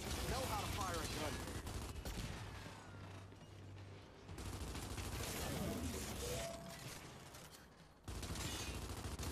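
Gunfire in Gears 5, with repeated rifle bursts and mechanical weapon clatter set against a busy battle soundscape of fairly steady loudness that drops briefly in the middle before surging again.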